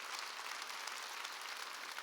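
Congregation applause during a Wednesday church worship service, a steady even patter of many hands clapping, faint and distant, without speech over it.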